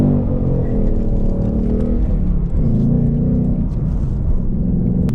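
A car on its stock exhaust accelerates with a deep, loud rumbling drone that climbs and dips slightly in pitch, heard up close and continuous without speech.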